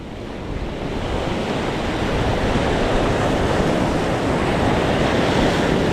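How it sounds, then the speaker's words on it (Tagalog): Big ocean waves crash and roar in a continuous, loud wash of surf at a fishing spot on the shore, with wind buffeting the microphone and no voices. "Grabe yung alon oh."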